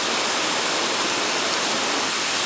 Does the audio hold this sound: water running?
yes